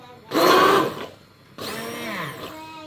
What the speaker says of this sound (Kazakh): погруженный блендермен бұны езіп алам